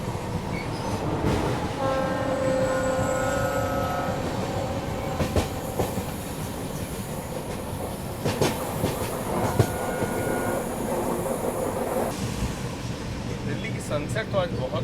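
A passing train with a Vajra locomotive goes by at a level crossing, a steady loud rumble with clickety-clack wheel beats and a sustained horn tone near the start, heard up close throughout.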